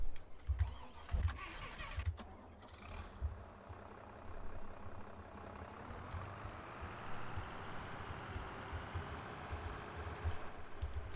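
A tractor engine from a farming simulation game runs with a steady, close mid-pitched drone and a low rumble underneath, with a few rougher surges near the start.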